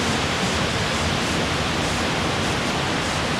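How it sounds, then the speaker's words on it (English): Steady, dense roar of a waterfall pouring down inside a curved-rock cave on Vancouver Island, a loud, unbroken broadband rush filling the whole stretch with no voices. "See the waterfall coming down under there."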